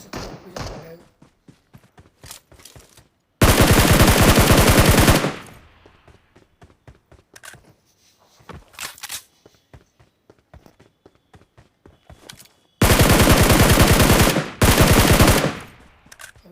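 Gunfire in a video game battle: two long, loud bursts of rapid automatic fire, with scattered single shots, thuds and footsteps between them.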